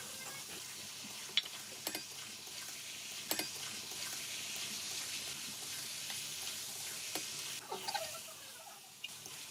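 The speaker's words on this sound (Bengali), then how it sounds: "নুন, হলুদ, লঙ্কা গুঁড়ো, বাটা মশলা, আলু সমস্ত কিছু দিয়ে অনেকক্ষণ ধরে কষিয়ে যেতে হবে" Mutton with salt, turmeric, chilli powder, ground spice paste and potatoes fries over a wood-fired clay stove, a soft steady sizzle with scattered clicks and scrapes of stirring, fairly quiet and without talk.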